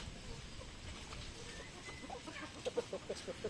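Turkeys cluck in a quick run of soft, low calls near the end, over quiet outdoor background noise.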